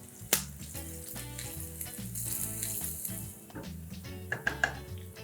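Finely chopped garlic, ginger and green chilli sizzling in hot ghee in a kadhai, a steady gentle frying hiss with a sharp clack near the start and a few light utensil taps later, no talk.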